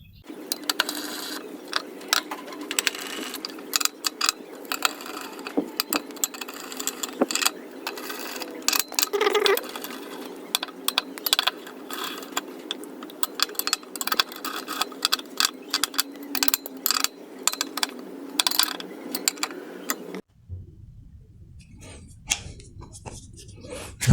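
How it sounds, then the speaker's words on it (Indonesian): Bolts are tightened on a Honda Vario 110 motorcycle engine with a ratchet, giving a long run of rapid clicking and metallic rattling, close up, that stops abruptly near the end, with faint talking in the background. "Lanjut ke penguncian baut,"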